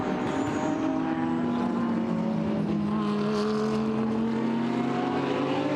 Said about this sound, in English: the gap is widening once more as the cars power up towards turn 4